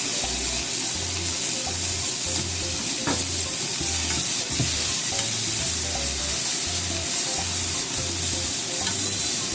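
Zucchini and tomato fry in a pan over medium heat, with a loud, constant sizzle up close and occasional clicks and scrapes from stirring. No one speaks.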